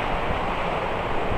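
Rough sea surges against the shore at Haji Ali in Mumbai, a loud, continuous roaring wash of water with heavy wind buffeting the microphone, no talk over it.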